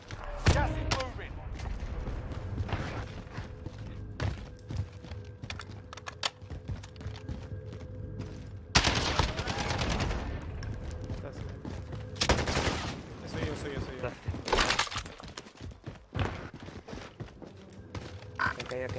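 Sustained video-game gunfire in a tactical shooter, dense rapid bursts and shots filling the whole stretch at steady loudness, with voices talking over the battle.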